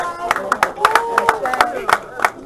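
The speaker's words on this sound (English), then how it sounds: "black men, don't be so quick to clap" Scattered audience clapping at a lecture in Dallas, a handful of sharp separate claps at uneven intervals, heard under a voice speaking.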